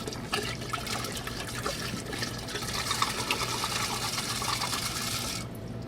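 A 750 ml bottle of 151 proof Everclear pours into peach moonshine, a continuous gurgling splash of liquid running steadily for several seconds before tapering off at the end.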